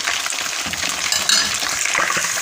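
Bone-in chicken wings deep-frying in a kadai make a loud, dense, continuous crackle and hiss of bubbling oil, steady throughout with small pops and no voices.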